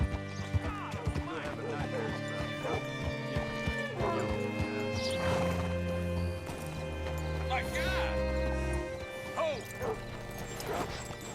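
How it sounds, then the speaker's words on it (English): Horse hooves clop at a walking pace in the western game Red Dead Redemption II, joined by snorts and whinnies over a sustained musical score, with a voice talking partway through. "Hitch your horse up here."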